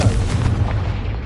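A Confringo spell explodes in the Hogwarts Legacy video game, a loud, booming low burst with rumbling decay that fills the short moment without any speech.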